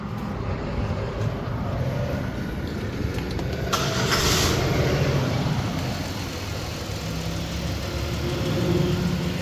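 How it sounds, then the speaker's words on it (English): A car engine turns over and settles into a steady idle, a continuous mid-pitched hum that stays close and even throughout. "We'll start the car."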